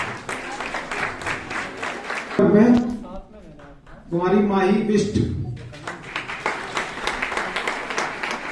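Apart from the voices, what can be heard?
audience applause for children at competition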